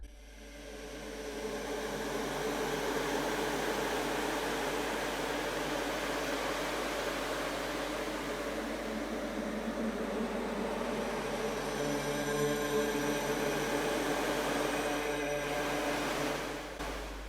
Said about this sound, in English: we really start to get like an airy, like almost just like wind sound from it